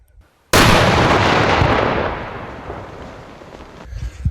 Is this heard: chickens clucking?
no